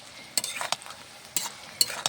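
Onion, garlic and chili fry in oil after dried lentil dumplings have been lightly browned, a faint sizzle broken by several sharp scrapes of a spatula being stirred.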